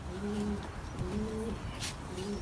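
A pigeon that is blind in one eye gives three drawn-out, throaty coos in a steady rhythm, close and clear over a constant low background hum, with no one speaking.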